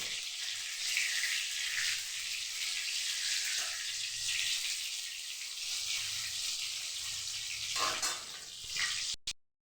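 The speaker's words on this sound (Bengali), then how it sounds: "হালকা হালকা তাপে ভেজে নিব" Brinjal slices fry gently over low heat with a loud, steady sizzling hiss that runs almost the whole way, swells briefly near the end, then cuts off abruptly to silence.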